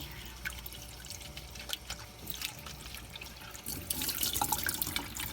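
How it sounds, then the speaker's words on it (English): Water runs steadily from a tap with splashing and dripping as a part of an ultrasonic cool mist humidifier is rinsed underneath, growing louder and fuller toward the end. "We'll rinse this in some water after unplugging it."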